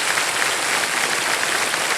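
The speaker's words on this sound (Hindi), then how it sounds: "तालियां बज जाए इनके लिए।" Studio audience on the KBC quiz show bursts into dense, steady applause, loud and close, a continuous wash of clapping with no talk over it.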